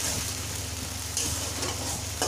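Ground onion paste sizzles in hot oil in a pan while being stirred, giving a continuous soft frying hiss with occasional scraping strokes of the spatula, with no talk.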